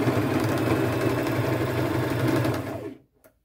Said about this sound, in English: I will just go forward, go backward, lock it in, and I will just stitch all the way around.